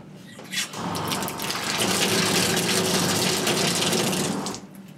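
Water gushes steadily from a faucet supplied by a 12-volt pump in a tiny home, starting with a small splash and then running loud and even before cutting off near the end.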